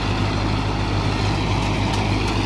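An Arjun Nova 605 tractor runs with a super seeder attached in a field, giving a loud, steady diesel drone with a low rumbling hum throughout and no talking.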